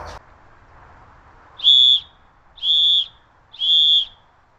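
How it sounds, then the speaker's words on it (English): A survival whistle blown in three sharp, shrill blasts of about half a second each, evenly spaced, loud and close against quiet background. "Pack a whistle, it can be heard a lot further"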